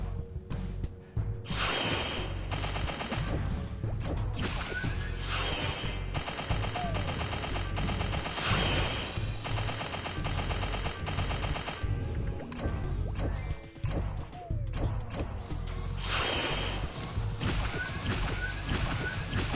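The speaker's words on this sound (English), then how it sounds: "I like Metso Explosion for the finale." Meso Explosion skill effects in the MapleStory video game, dense rapid-fire cracking and smashing impacts in long sustained bursts with brief lulls, loud and continuous under game sound.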